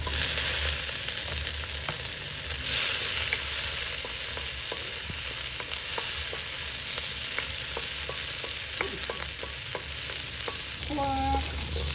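Tomatoes sautéing in a pan with onion for ginisang patola, a steady close sizzle and crackle with occasional light stirring scrapes and clicks, no voices.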